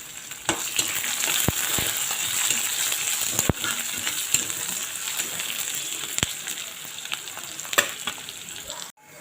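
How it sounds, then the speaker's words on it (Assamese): Onions fry to golden brown in a pan after cumin seeds crackle, for a papad curry: a steady, close hiss of sizzling oil runs throughout, broken by sharp clicks and taps of a spoon against the pan. "পিঁয়াজখিনি এতিয়া মই ৰংচুৱা হোৱালৈকে ফ্ৰাই কৰি ল'ম।"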